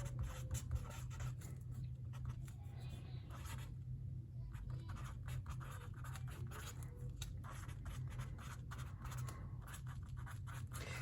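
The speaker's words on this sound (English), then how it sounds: "Let me see that, so I'll write that down." Pen or pencil scratching out notes on paper during a seventh grade math lesson on circles, faint irregular scribbling strokes over a low steady background hum, no speech.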